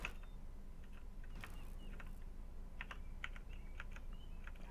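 Quiet, scattered keystrokes clack on a computer keyboard during a game session, coming in uneven bursts and single taps at low volume with no voice present.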